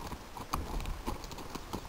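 Horse hooves clip-clopping while a rider practises diagonals on a mount in a new saddle, a steady run of moderately close hoof beats with no talk over them.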